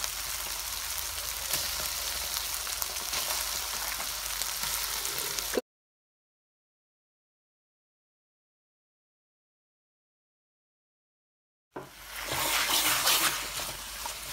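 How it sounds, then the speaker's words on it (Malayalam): Chicken pieces go into hot onion gravy for chicken biryani and fry with a close, steady sizzle and crackle, broken by a long stretch of silence before the sizzling returns. "അപ്പോൾ അതിലേക്ക് നമുക്കിനി ചിക്കൻ ഇട്ട് കൊടുക്കാം"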